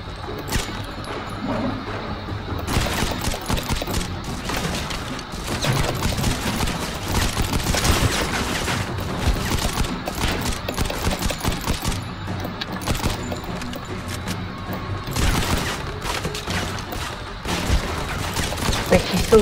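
Gunfire in the Modern Combat video game crackles in repeated rapid bursts and volleys throughout, fairly loud against a constant background of game noise.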